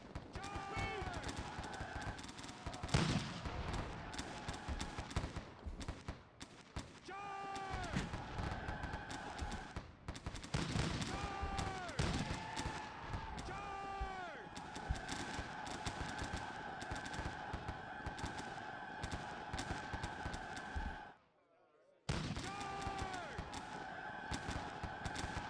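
Musket gunfire in the Sid Meier's Gettysburg video game, scattered sharp volleys and rapid crackling shots over a dense battlefield din, with voices calling out among them.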